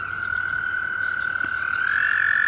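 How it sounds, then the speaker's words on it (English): Toads calling while mating at Wicks Pond, a continuous high trilling call held steady and rising slightly at the end, close and loud over faint pond background. "The toads will continue mating throughout the summer, throughout much of our region"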